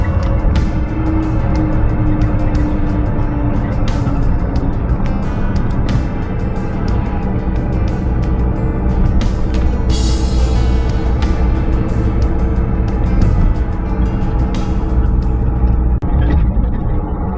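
Cars on a winter street in a Jersey Shore town give a continuous low road rumble, with a brief brighter swell of tire noise midway as one passes close.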